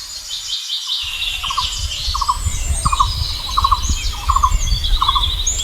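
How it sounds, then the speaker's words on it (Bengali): A male rose-ringed parakeet in a forest calls close by with a regular series of short, harsh squawks, set against fainter high chirps and twittering from other birds. "তো টিয়া পাখিটা ঠিক আমার সামনে আছে"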